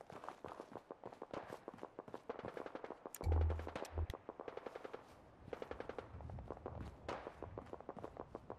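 Rapid bursts of automatic gunfire in the video game Fallout: Miami, sharp repeated shots crackling in quick runs, with one heavy deep boom partway through and footsteps mixed in.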